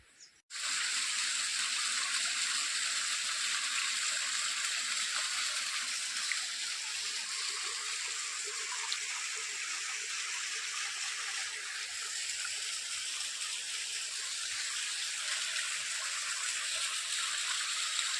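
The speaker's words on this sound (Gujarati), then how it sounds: "અદ્ભુત ઝરણા।" A spring-fed stream flows between hills at a Khodiyar shrine near Palitana, producing a constant, even rush of water that stays soft and unbroken from start to finish, with no voices.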